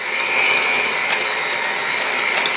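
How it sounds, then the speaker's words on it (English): Electric hand mixer creaming salted butter in a bowl, a steady whirring motor whine with a faint mechanical rattle, close and continuous. "I'll grab my hand mixer, and I want to cream this butter"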